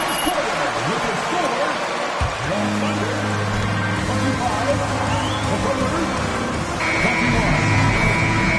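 Under excited commentary and arena crowd noise, a basketball video game's end-of-period buzzer sounds as a sustained flat electronic tone.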